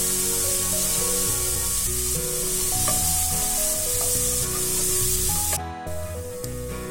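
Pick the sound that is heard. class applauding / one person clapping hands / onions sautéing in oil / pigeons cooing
onions sautéing in oil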